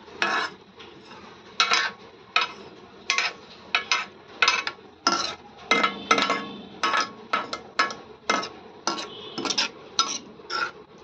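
Rice being stirred into milk in a pot for kheer: a spoon scrapes and knocks against the metal pot in a regular rhythm of short clinking strokes, close and distinct, with no talking.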